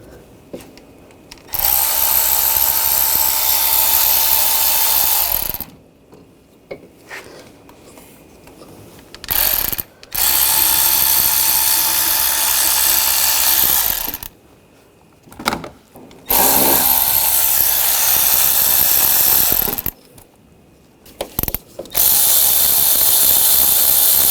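A power ratchet spins out water pump bolts on a Buick Encore 1.4L engine in loud whirring bursts of several seconds each, separated by short quiet pauses.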